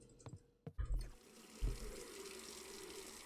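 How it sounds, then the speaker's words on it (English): Water runs into a pot in a beer brewing simulator game with a splashy fill that starts with a few drips, then turns into a steady pour and stays moderately loud until the end. "so let's get our water in our pot."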